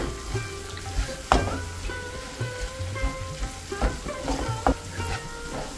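A thickening jaggery-style prasadam mixture for Vinayaka Chavithi cooking in a kadai, bubbling and sizzling with repeated ladle scrapes and knocks against the pan.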